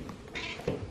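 A small all-white cat meows once, close and clear, over quiet indoor room tone.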